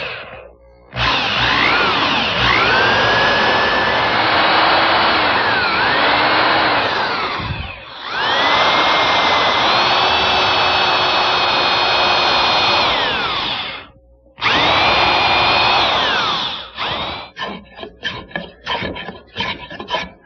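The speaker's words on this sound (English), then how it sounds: "and drill a hole" A power drill fitted with a long extended bit bores a hole through a wooden Windsor chair crest rail, whining loudly in long sustained runs with pitch shifts under load, brief pauses between, then short choppy bursts at the end.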